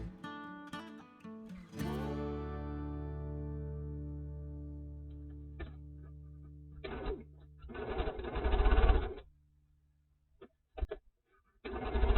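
Sewing machine chain piecing the units of a quilt block, heard as a sustained humming run followed by louder bursts of rapid stitching and a few short stops and restarts.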